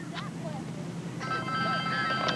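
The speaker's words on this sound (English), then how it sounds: "The phone is ringing." A telephone rings with a steady electronic tone starting midway, heard over continuous beach wind and surf noise with a faint voice in the background.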